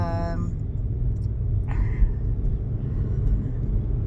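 A car drives on a road with a steady low engine and road rumble from inside the vehicle, and a brief voice can be heard early on.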